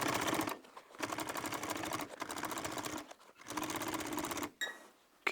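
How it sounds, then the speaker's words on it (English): A sewing machine stitches through a firewood sling in four steady, rapid bursts of about a second each, separated by short pauses. It is loud and close, with no talk. "now let's run it through the machine"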